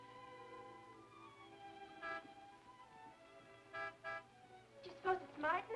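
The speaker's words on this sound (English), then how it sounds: "Martin would never honk a horn at a lady" A car horn outside sounds in a 1948 film noir scene: a few short, faint honks spaced apart, then a quick pair near the end, over a low steady hum.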